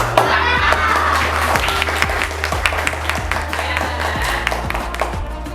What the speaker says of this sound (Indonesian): Tepuk tangan semuanya untuk kelas.